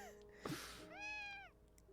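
A cartoonish cat meows in a Piofiore visual novel game, one short mew followed by a longer rising-and-falling meow with clear harmonics, fairly close and alone.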